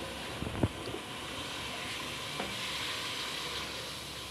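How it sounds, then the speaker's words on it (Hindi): Masala sizzles and fries steadily in a pan for a cabbage and chicken curry, with a constant hissing crackle. A couple of brief stirring knocks come near the start; no one speaks. "इसका अच्छे तरीके से हम मसाला भूनेंगे।"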